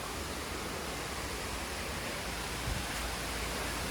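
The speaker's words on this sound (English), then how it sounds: "we get to see where the water first comes in from across the road" Water pours in from across the road toward Nang Khuan Waterfall, making a dense, even rushing hiss that stays constant and close with no voices.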